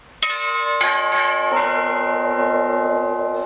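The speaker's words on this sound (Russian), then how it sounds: "и тогда колокола начнут петь." Newly consecrated church bells at a Russian Orthodox church of the Hieromartyr Valentin ring out in several loud struck peals, each strike blooming into long, layered sustained tones that overlap and linger.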